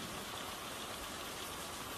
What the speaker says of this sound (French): Qui sait jusqu'à quand il va pleuvoir?